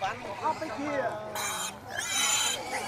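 Pigs grunt and squeal at a mountain livestock market where black local pigs are sold, with a few short squeals and harsher bursts mixed among nearby voices and market bustle.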